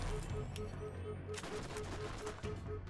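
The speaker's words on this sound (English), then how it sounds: "His SMG does devastating damage." SMG gunfire in the video game Borderlands, a dense rapid stream of shots under a steady game soundscape with a low hum and repeating tone, one brief louder burst midway.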